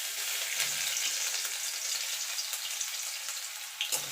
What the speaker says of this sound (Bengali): রসুনটা একটুখানি ভাজা ভাজা করে নেব।